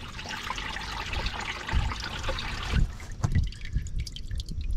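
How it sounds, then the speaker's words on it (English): Engine oil drips and trickles from the drain of a Caterpillar 977 track loader that sat unused for over twelve years, with close, irregular splashes over a steady background wash and a few louder spatters. "We'll let that drip for a few minutes"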